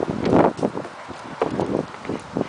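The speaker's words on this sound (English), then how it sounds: "Windy day today." Wind on a blustery day buffets the microphone in uneven gusts, with rustling and a few soft thumps like steps on the ground, moderately loud and irregular, no voices.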